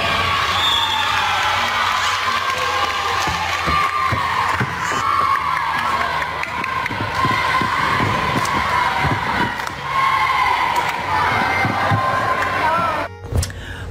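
Children cheering and shouting at a volleyball competition amid a noisy gym crowd, continuous excited voices with occasional thumps, loud throughout.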